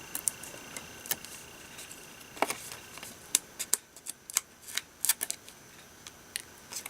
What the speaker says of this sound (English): This is what takes the longest to make this card, is peeling off the dimensional paper back.